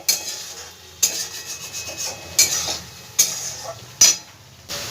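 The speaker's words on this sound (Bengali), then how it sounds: "সব মশলাগুলো খুব ভালো করে আমি ভেজে নেব, মশলা থেকে যতক্ষণ না তেলটা ছেড়ে দিচ্ছে" Spice paste frying in oil in a pan for sweet-shop style chana dal, a soft low sizzle under five sharp spoon scrapes and stirring knocks spaced about a second apart.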